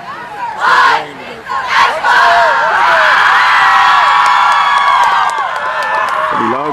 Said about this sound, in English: Pretty loud crowd for the Rebels.